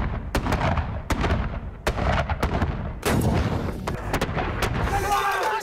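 British artillery cannons fire in a rapid series of loud, sharp booms during combat in Afghanistan, with repeated blasts close together and rumbling decay between them.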